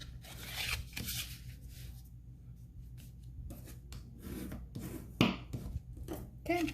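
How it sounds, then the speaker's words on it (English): Close rubbing and scraping of a tool burnishing folded paper along score lines for a post-it and pen holder craft, in short strokes with brief pauses and a louder swipe near the end. "I always recommend burnishing from the middle"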